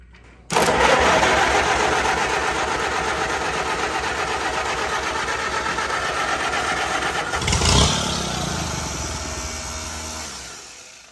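A 1959 International 340 tractor engine cranks on a temporarily rigged battery, churning steadily and loudly for about seven seconds, then surges briefly as it nearly catches before the cranking winds down and stops. No one speaks.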